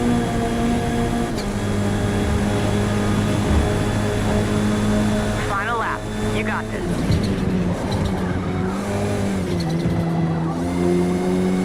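Tyres squeal and engines roar in Forza Motorsport touring car racing on Xbox Series X, a continuous loud engine drone with rising and falling skidding squeals midway, while someone talks over the top.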